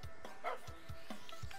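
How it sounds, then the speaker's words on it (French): A puppy in a survival video game barks repeatedly in short, soft yips, about five or six quick barks in a steady rhythm, faint and close over a low background hum. "Bon, le bébé chien il arrive."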